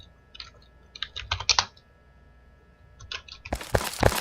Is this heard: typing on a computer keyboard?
yes